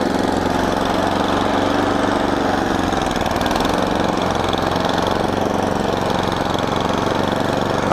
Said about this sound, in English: My snowblower's getting stuck.